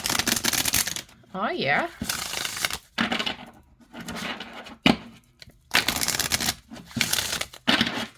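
Oracle cards shuffled by hand in several bursts of crisp riffling and flicking, side to side and overhand, with short pauses between, while a person speaks briefly.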